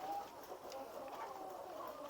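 Chickens cluck softly beneath a coop that was once a laying-hen house, a few short, overlapping calls at moderate distance over a quiet background.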